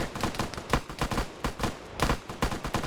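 Rapid bursts of gunfire in the World War Z video game, a dense rattle of automatic and single shots overlapping at close range, loud and continuous with no talking.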